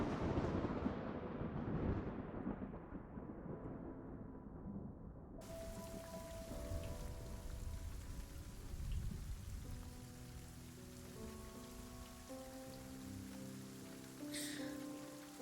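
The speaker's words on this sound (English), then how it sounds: "And as the rain, thunder fall, you hear the crash of it." Steady heavy rain pours throughout while thunder rumbles low and long, with a distant crash near the end, forming a continuous storm bed with no voices.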